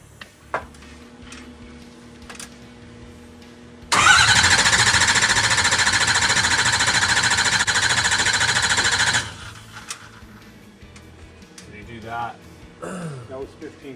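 Starter cranking a 2007 Ford 6.0 Powerstroke diesel engine in a rapid, loud, steady chatter for about five seconds before stopping abruptly, with voices talking before and after.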